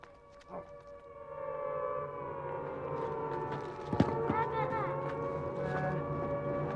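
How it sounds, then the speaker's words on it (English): A wailing air raid siren rises and holds a steady tone, with people talking and calling out over it and a sharp thud partway through. "You can't, the sirens just started!"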